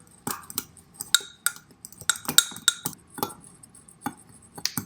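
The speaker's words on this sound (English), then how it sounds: "give it a good stir." A spoon stirs lamb massage oil in a glass container, giving a series of light, irregular clinks against the glass, close and fairly quiet, with no talk.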